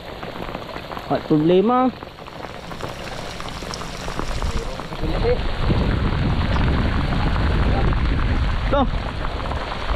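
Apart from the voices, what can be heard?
heavy rain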